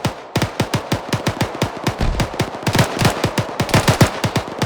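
Machine gun fire in the ArmA 3 military video game: steady, rhythmic bursts of sharp, punchy shots, roughly eight a second, continuing loud and close for several seconds with a slightly denser stretch near the end.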